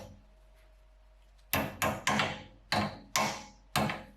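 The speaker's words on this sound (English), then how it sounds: "we are going to go ahead and hammer" On a Honda S2000, a rear brake bracket is hammered into place with six sharp metallic strikes in quick, uneven succession, heard close after a quiet pause.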